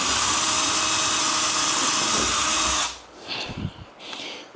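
A power drill boring a hole in a wood shop, a steady loud whirring that runs for about three seconds and then stops, followed by faint handling noises.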